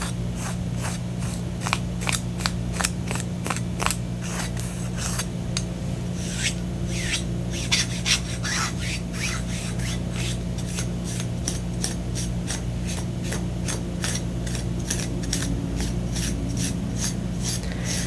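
Rough scratching of skin with various objects, close and crisp, in quick rhythmic bursts of rasping strokes that run through the whole stretch over a low steady background hum, with no talking.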